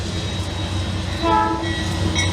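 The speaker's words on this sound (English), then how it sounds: "This is CSX Q561. It has BNSF-9 leading." CSX Q561, a freight train led by a BNSF locomotive, rumbles past with a deep continuous engine drone, and a horn chord swells loudly midway before fading back into the rolling noise.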